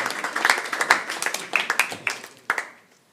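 An audience claps together in a brief burst of applause, dense hand claps fading out over a few seconds, close and fairly loud.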